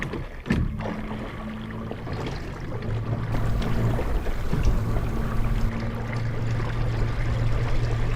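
55 lb thrust trolling motor driving a kayak, a low steady electric hum with tonal whine rising as it speeds up, over continuous water wash and splashing.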